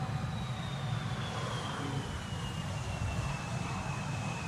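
Airliner taxiing at Amsterdam Schiphol airport, a steady low jet-engine rumble with a thin high whine drifting slightly in pitch, heard from a distance outdoors without any voices.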